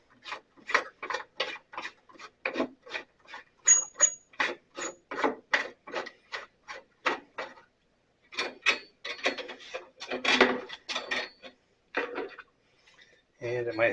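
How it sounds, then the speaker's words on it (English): Tension on a Sears Craftsman 12-inch bandsaw blade is backed off, giving a close, rhythmic series of sharp ratcheting clicks and creaks, several pauses between runs, with rubbing and handling noise near the end. "So we're going to back the tension off."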